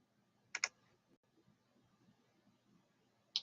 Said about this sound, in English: You're going to type the name down there in the box.